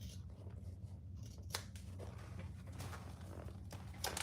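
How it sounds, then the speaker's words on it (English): Scissors trimming the middle pocket seams of a sewing project for a Julie pattern, giving a few quiet, close snips over a low steady background hum. "I'm just trimming these middle pocket seams to decrease the bulk when we stitch"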